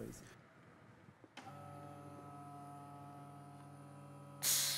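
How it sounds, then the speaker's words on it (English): A Festool Vac Sys vacuum pump used for clamping workpieces starts up with a click and settles into a steady electric hum with tonal whine, close and moderately loud, ending in a sudden burst of hiss. "Now let's switch on the pump and I will show you how it works."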